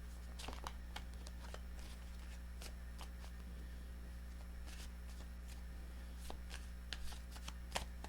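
Tarot cards being shuffled during a reading, a soft run of papery riffles and light taps at a quiet level with no talk.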